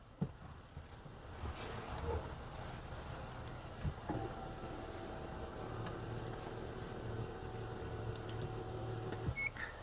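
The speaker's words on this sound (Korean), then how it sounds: "이렇게 앞좌석의 시트는 완전히 접혀지고 뒷좌석의 시트는 이렇게 편안한 각도로 원터치로 조절됩니다." A Genesis G90's rear power seat motor whirs steadily for several seconds, a low, even electric drone as the front seat folds away and the rear seat reclines to a comfort angle inside the cabin.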